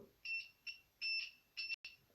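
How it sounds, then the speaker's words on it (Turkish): A faint electronic buzzer in a DIY wire-loop game beeps in short bursts as the ring touches the wire, five or so uneven pulses with gaps between, alone in a quiet room. "Değdiğinde buzzer'ımız ötüyor"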